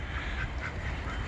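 Ducks quack and honk steadily together inside a shelter warmed by a heat lamp during an ice storm, a close, continuous chorus of calls with no talking.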